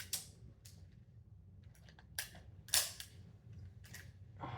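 A realistic Nerf-style toy revolver is dry fired several times, giving sharp, close plastic clicks and snaps at uneven intervals over a low background hum, with one louder crack near the middle.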